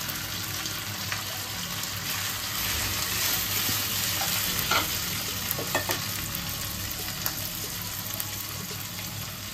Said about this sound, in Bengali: এবার আদা কুচিগুলো দিয়ে দিচ্ছি। দিয়ে দিচ্ছি পেঁয়াজগুলো টোকরা টোকরা করে কেটে নিয়েছি।